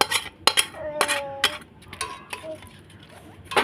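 Caramel being stirred into milk for Bengali mishti doi, with a few sharp utensil clinks against the pot and softer stirring scrapes, close by and irregular, with a voice talking over part of it.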